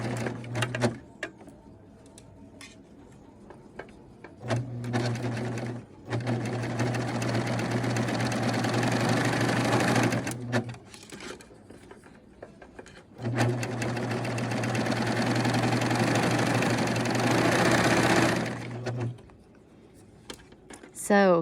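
Husqvarna Viking Amber Air 600 coverstitch machine with hemmer attachment sewing a hem, running loudly in two long steady bursts of several seconds each, with short pauses and quiet stretches between.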